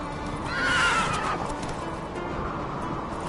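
Roach, a horse in a video game, gives a loud rising whinny near the start, then hooves keep running beneath steady in-game ambience.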